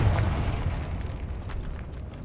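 A Confringo fire-blast spell explodes in the Hogwarts Legacy video game, a dull, rumbling burst that fades into a low, noisy roar over about two seconds.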